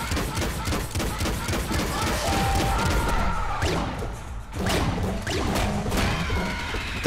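Grenade explosions in the PC game Nuclear Throne, a dense burst of crashing blasts and rapid gunfire-like bangs layered over game music, loud and busy throughout.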